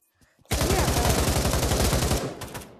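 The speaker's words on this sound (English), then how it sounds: "apparently my gun wants to fire for no reason" Rapid automatic gunfire from a weapon in the VR shooter Pavlov VR, one loud close sustained burst lasting nearly two seconds after a brief quiet start, then cutting off.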